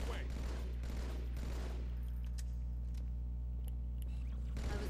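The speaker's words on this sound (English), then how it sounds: "we're gonna use our battle rifle." Battle rifle fire in the video game Halo 2 on Cairo Station, with sharp bursts of shots over a loud, constant low engine-like drone. The shots fade into quieter mechanical clicks and ringing before another burst starts.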